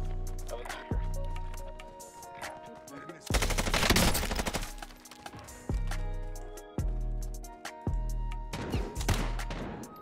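Soul Tracer weapons in the shooter Warzone fire in repeated bursts of rapid automatic gunfire, close and loud, with short pauses between volleys, over background game music.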